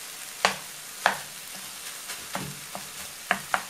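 A spoon stirring cheese into a pastry filling in a pan, a few sharp scraping clicks spaced irregularly over a faint background sizzle, close and clear with no talking.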